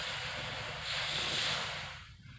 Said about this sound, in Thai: ตอนนี้ตั้งกระทะครับผมกระทะแข็งๆครับตั้งให้มันหอมจังหน่อยก็จะเอาน้ำลง